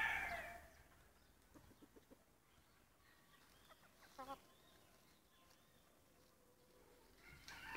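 Chickens and an Indian gamecock rooster on a farmyard, with soft scattered clucks and short calls over a quiet background, a faint call at the start and a slightly louder pair of clucks midway.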